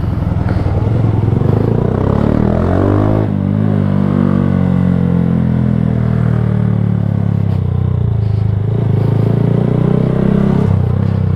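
A Honda Super Cub 125 rides through traffic with its small engine close and loud, its pitch sweeping up and down as it revs and the rider changes gear, over steady road noise.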